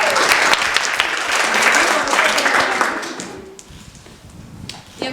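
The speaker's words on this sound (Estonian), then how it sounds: "Jaanika Soosaar, teeme talle kohe suure aplaus." Audience applause at a soloists' singing contest in Tõstamaa, a loud burst of dense clapping that gradually thins and fades over a few seconds.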